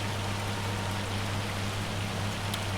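Steady, dense rain with hail pelting down in the Farming Simulator 25 game, a constant loud hiss of falling precipitation without pause.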